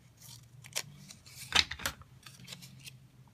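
Scissors snip slits about an inch long into a paper tree shape for a door-decorating craft, giving a few short crisp cuts, the loudest near the middle, close and quiet with no talking.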